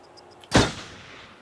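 A single loud gunshot aimed at a squirrel in the Until Dawn horror game, a sharp close crack that trails off into a short fading echo, preceded by faint ambient tones, with no talking.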